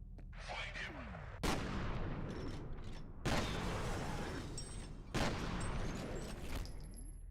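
A Doom shotgun in the video game F.E.A.R. fires three heavy, booming blasts at roughly two-second intervals, each leaving a rumbling tail under the game's ambience.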